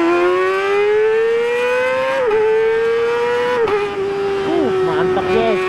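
A bored-up Kawasaki ZX25R motorcycle with a tuned ignition accelerates hard, its high-pitched four-cylinder wail climbing steadily through several gear shifts, loud and close throughout.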